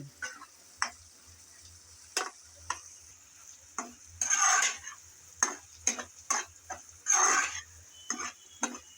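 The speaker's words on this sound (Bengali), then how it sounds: "ভিনেগার দেওয়ার পর আরও কিছুক্ষণ রান্না করে নিয়েছি" Prawn pickle being stirred and fried in oil and vinegar in a pan: a steady faint sizzle under repeated spoon scrapes and clicks against the pan, close and clear, with no talking.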